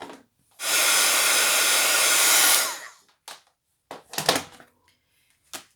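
A heat gun blows a loud steady hissing stream of air for about two seconds while setting gilding embossing powder on a paper mini album, then stops, followed by a few faint handling clicks and rustles.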